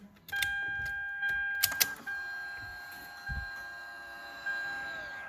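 Electric steering column motor on a 2001 Lexus LS430 shifting the wheel, a steady whine with faint tonal hum running several seconds after a few clicks, fairly close and alone.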